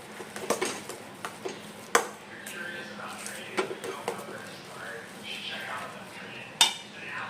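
A spoon stirs masala spice paste with lemon in a bowl, giving soft scraping and intermittent clinks against the bowl's sides, with a couple of sharper knocks and a voice talking now and then.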